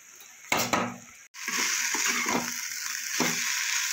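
Potatoes and eggplant cooked with mustard and poppy seed fry in a pan, utensil knocks and clinks giving way to a steady close sizzle broken by a few stirring scrapes.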